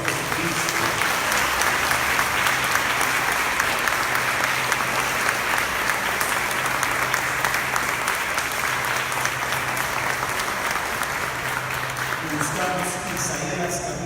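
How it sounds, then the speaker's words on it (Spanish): Applause for Jesus Christ at a Catholic church service: sustained, dense clapping from a large congregation, steady and loud for the full length with a low hum beneath. "vamos a dar un fortísimo aplauso a Jesucristo"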